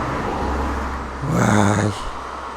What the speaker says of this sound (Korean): 차들이 가끔 지나다녀서 시끄러워서 그렇지.